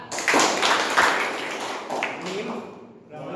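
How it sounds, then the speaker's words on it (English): A group of people clap together on command in a meeting game, a burst of scattered hand claps answering a call, with voices talking around it. "you have to clap."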